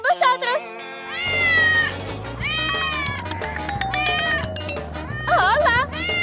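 Cartoon kittens give a steady run of loud, close meows, some short and some drawn out, over a low droning background.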